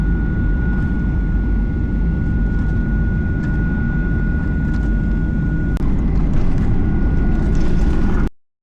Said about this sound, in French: On est en train d'atterrir. Tout doucement.